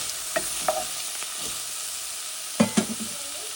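Onions sautéed in a pan for a Kerala-style chicken curry, a soft background sizzle broken by several sharp scraping strokes of a spatula, two bursts close together, no one speaking.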